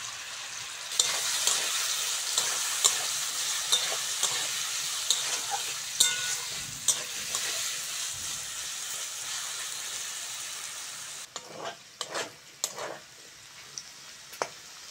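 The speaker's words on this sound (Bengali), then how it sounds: "আলু ভাজার জন্য কড়ার মধ্যে তেল দিয়ে দেবো।" Cut potatoes fry in hot oil in a wok, giving a continuous loud sizzle, with regular scraping clicks as a spatula stirs them and a quieter, sparser stretch near the end.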